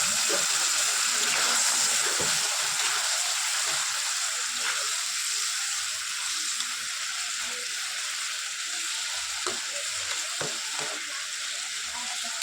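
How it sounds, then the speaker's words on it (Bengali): Water is poured into a hot pan of papad and ridge gourd vegetable curry, setting off a strong continuous sizzle and bubbling that gradually settles, with a few faint clinks and no speech. "এবার আমি একটু জল দিয়ে দেবো।"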